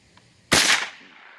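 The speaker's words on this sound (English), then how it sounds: "We've hit all the targets, and we have a couple bullets left" .22 rifle fired at targets: a single sharp, loud report cracks out of near silence, then its echo decays over about a second, with no voices.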